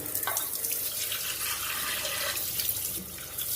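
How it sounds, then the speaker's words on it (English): Water pours in a steady, close stream for a few seconds, with a bright splashing hiss and no talking. "it is time to add a little bit of water"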